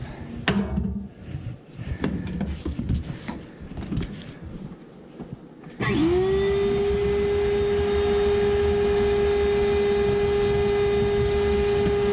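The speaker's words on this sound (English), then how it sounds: "Moving it made the motor work." Heat coil unit's motor starts up after being moved, settling into a loud steady hum with a clear tone, preceded by clunks and handling sounds.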